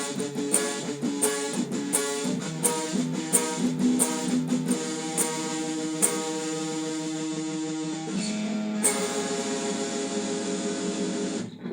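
An electric guitar plays the solo, a run of picked notes and sustained bends ending on a long held note, clear and alone.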